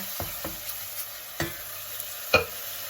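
Blended shallots and garlic stir-fried with risotto rice in a pan, giving a low, steady sizzle broken by a few sharp spatula scrapes and taps, heard close with no talking.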